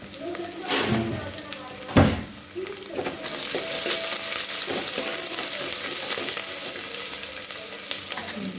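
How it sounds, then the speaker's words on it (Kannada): Crushed onion and garlic frying in a pan for mosoppu saaru, a steady sizzle with occasional stirring scrapes and a sharp clatter near the start. "ಚೆನ್ನಾಗಿ ಫ್ರೈ ಆಗ್ತಾ ಇದೆ."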